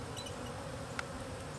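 Honey bees from a nuc being installed in a hive box buzz in a steady, close hum that fills the whole moment, with one brief sharp tick partway through.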